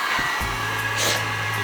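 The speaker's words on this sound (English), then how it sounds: "the idea is to heat it up with the heat gun" A heat gun runs steadily close by, blowing hot air onto 30-year-old sound deadening inside a car, a constant whooshing roar with a low hum that holds for the whole short stretch.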